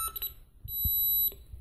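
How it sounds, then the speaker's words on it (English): An Elcometer 266 holiday detector gauge sounds its alarm, giving a steady high-pitched electronic tone that holds for about half a second, with faint thumps just before and after it. "on the handle itself, we see the light come on and we hear the gauge alarm"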